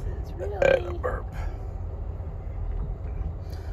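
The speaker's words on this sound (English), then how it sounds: "Burp." A single loud, close burp after eating pizza on an Amtrak Coast Starlight train, with a low, steady rumble of the moving train beneath it.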